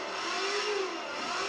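The engine of a BMW E36 revs high and strained during a clutch-kick drift, a steady whining tone that wavers slightly. It sounds fairly faint, as if heard from inside or at a distance, with no speech.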